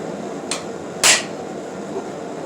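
Two sharp hammer blows on a chisel set into metal in a blacksmith shop, the second louder and ringing, each standing out over a steady background hum.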